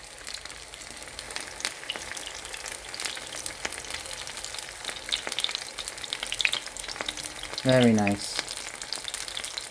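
Cucuzza squash flowers fry in a pan for a vegan dish, a steady close crackling sizzle running throughout, with a short spoken remark near the end.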